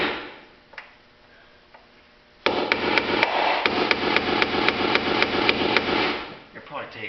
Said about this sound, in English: Center punch that one good enough.